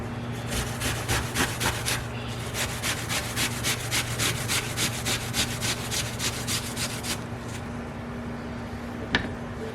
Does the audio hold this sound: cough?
no